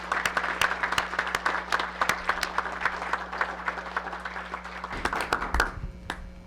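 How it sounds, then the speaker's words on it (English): Audience clapping in a room, steady moderate applause with individual hand claps audible throughout, fading toward the end into a few scattered claps and light background murmur. "can we give them a big round of applause"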